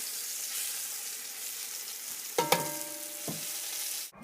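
Beef pieces brown in a frying pan with a steady hiss of sizzling fat, punctuated by a few sharp clanks of a utensil against the pan as the meat is turned.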